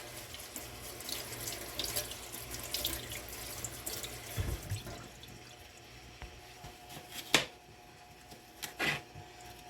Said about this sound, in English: turn on your cool water